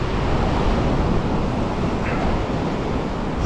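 Ocean waves and wind rush constantly and loudly during saltwater striped bass fishing, a dense, unbroken wash of surf noise with no speech.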